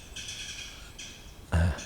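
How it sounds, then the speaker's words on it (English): A wild bird calls in Aokigahara Jukai forest in Japan, giving repeated bright chirping phrases in short bursts at moderate distance, followed by a brief louder thump, with no talking. "it's a nice bird."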